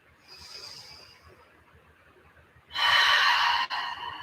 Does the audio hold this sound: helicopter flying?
no